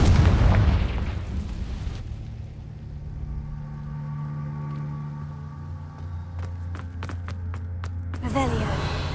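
In Hogwarts Legacy a Confringo spell detonates with a loud close blast at the start, then a low rumbling tail and humming ambience, a few sharp clicks, and a voice near the end.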